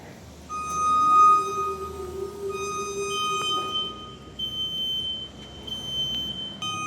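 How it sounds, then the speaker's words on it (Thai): An overhead collision sensor on an X-Lift work lift sounds electronic warning beeps and sustained tones that shift in pitch, over a low background hum. "ระบบจะทำงานคล้ายกันกับเซ็นเซอร์ของรถยนต์ มีการแจ้งเตือนในระยะเสี่ยงภัย"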